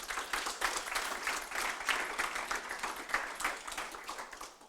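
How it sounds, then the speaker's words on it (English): A conference audience in Frankfurt applauds steadily, a dense wash of many hands clapping at moderate volume that tapers slightly toward the end. "Your applause from Frankfurt."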